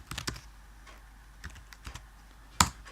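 Close computer keyboard typing during Android Studio coding: scattered quick key clicks in short bursts with pauses between, ending in one sharper louder keystroke, no talk.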